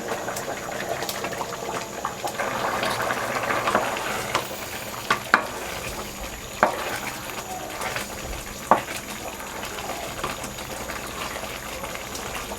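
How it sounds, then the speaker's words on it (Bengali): Meat tipped into hot spiced oil for tehari, a loud bubbling sizzle that settles into steady frying, with stirring and occasional sharp knocks of a utensil against the pot, close by. "মাংসটা ঢেলে দিচ্ছি"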